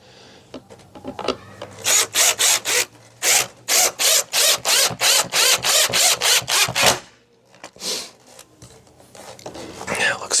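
Screws driven with a power driver into a PVC exterior line cover for a mini split, giving a string of short rapid whirring bursts close by, then a pause and one more brief burst, with faint speech in the background.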